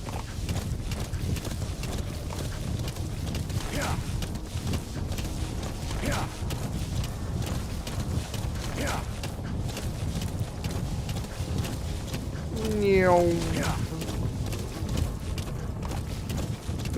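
Horse hooves galloping in Metal Gear Solid V, a steady rapid clip-clop rhythm over a busy game backdrop with faint scattered effects and a brief whinny-like sweep near the end.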